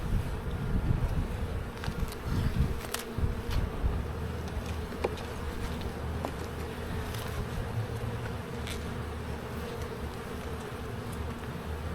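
Honeybees buzz around an open hive during an inspection, a dense continuous drone close to the microphone with individual bees zipping past, plus occasional clicks and knocks of frames being handled.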